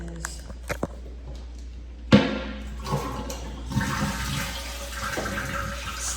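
Toilet flushing in a house bathroom with a walk-in shower: a sharp flush onset followed by a rushing, gurgling swirl of water that gradually settles, heard close and alone with a few small clicks before it.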